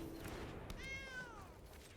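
A cat meows once, a clear rising-then-falling cry from the Sacred Cat card in the MTG Arena digital card game, heard over a soft steady game background with no voices.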